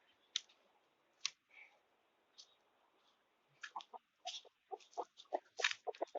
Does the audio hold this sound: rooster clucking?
yes